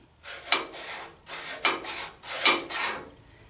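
A 600 grit sharpener is rubbed along the flat edge of a jointer knife held in place, giving three pairs of close, raspy scraping strokes in an even back-and-forth rhythm with short pauses between.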